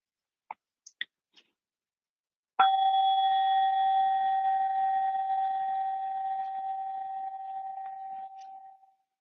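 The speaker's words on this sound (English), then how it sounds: "I'll invite the bell here to signify the end of our practice" A meditation bell is struck once to close a practice session, giving a clear metallic strike followed by a long, slowly fading ring with bright overtones. A few faint taps come before the strike in an otherwise quiet room.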